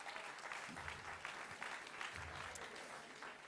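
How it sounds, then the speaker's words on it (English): An audience at a King of the Table arm wrestling event claps steadily, a dense patter of many hands heard from a distance with a faint crowd murmur underneath. "Give him a round of applause, everybody."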